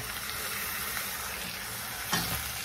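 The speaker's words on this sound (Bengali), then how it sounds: "পেঁয়াজটা একটু ভাজা ভাজা হয়ে এলে এবার চিকেনটা অ্যাড করে দেবো।" Chicken coated in ginger and garlic is added to onions already frying in a pan, producing a steady, quiet sizzle with a brief louder hiss of frying near the end.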